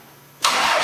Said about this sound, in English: Okay, I'm going to get ready to start the Power Wagon.